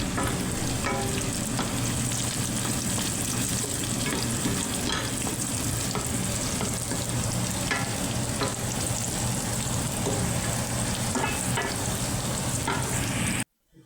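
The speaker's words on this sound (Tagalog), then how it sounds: "ihulog natin yung carrots na pinirito natin kanina. Haluin po natin." Fried carrots being stirred into a pan for Bukhari rice, with a steady loud sizzle of frying running the whole time, broken by scraping stirs, and no voices.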